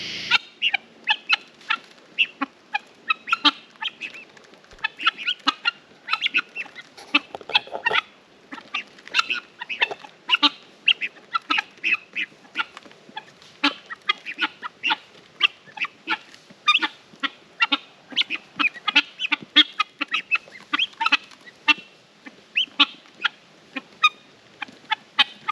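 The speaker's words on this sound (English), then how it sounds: "the guinea fowl they stay in a flock" A flock of guinea fowl calls continuously outdoors, a dense chorus of rapid, harsh, rhythmic chattering cries overlapping from several birds at moderate distance, with no talk.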